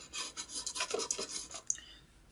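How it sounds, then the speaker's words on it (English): Acrylic plastic being scuffed by hand for a DIY enclosure, a series of short, close rasping strokes in an uneven rhythm, quiet, with a faint click near the end and no talking. "because you still want to scuff the plastic"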